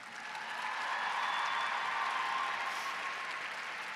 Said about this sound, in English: give a round of applause to the young women who pulled tonight together